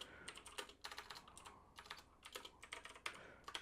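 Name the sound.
typing on a computer keyboard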